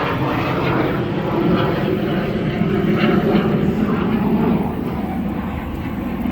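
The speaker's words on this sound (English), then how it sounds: "Jets. More jets." A jet aircraft passes overhead, a loud, steady, broad roar that swells slightly midway and holds for several seconds.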